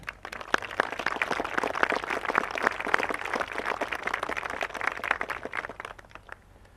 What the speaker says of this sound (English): Please give these folks, many who are in attendance today, a round of applause